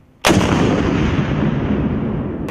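An M3 Carl Gustaf recoilless rifle fires a single round: one sudden, extremely loud blast that hits at once and fills the clip, followed by a long, rough roar and echo that does not die away before the end.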